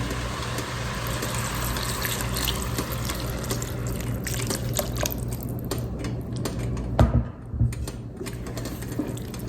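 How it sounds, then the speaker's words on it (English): Broth is poured a little at a time into a pot of black-eyed peas and vegetables while being stirred, giving a steady close liquid pour and sloshing with a few louder clanks near the end, and no talking. "now we're going to add our broth a little bit at a time and stirring"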